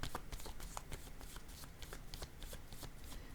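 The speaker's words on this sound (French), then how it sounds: "Je vais déposer une carte sur dette." A tarot card drawn from a deck and laid down on a table, heard as quick dry papery flicks and rustles that run steadily and close, with faint room tone behind them.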